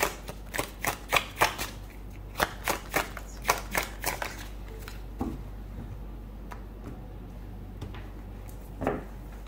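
Tarot cards are shuffled in a quick run of crisp riffling slaps, roughly a dozen close strokes in an even rhythm, then a few scattered card taps over a low steady hum with no talking.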